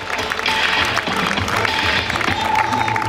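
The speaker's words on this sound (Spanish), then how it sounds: "Vamos, Irene, fuerte el aplauso." A crowd applauds steadily at a mile road race in Gijón, clapping dense and continuous while an announcer speaks over it.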